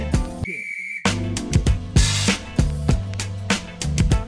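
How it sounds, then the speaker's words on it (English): A whistle gives one short, piercing blast to start a game, briefly cutting through busy upbeat music that then carries on loudly. "on the sound of the whistle,"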